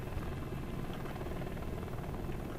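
Helicopter in the Dark Sector video game, its rotor chopping in a steady, continuous throb that sits loud and close throughout the short stretch, with no talking.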